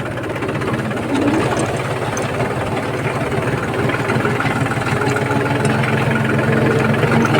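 Tractor engine running steadily in a field during windy rain, a loud continuous diesel rumble and knock that holds without pause throughout.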